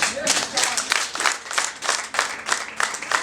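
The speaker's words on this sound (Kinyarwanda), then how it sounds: "Umva umusangiza w'amagambo mwamumpera amashyi menshi." Lively applause breaks out for the speaker at a Rwandan wedding reception, a dense crowd of hands clapping in a steady rhythm of close bursts with no pause throughout.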